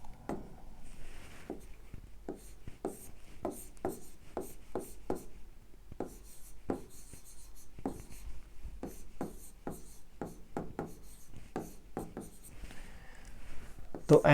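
Pen scratching on paper while writing out a geometry answer, a quick run of short strokes in irregular bursts with brief pauses, close and fairly faint.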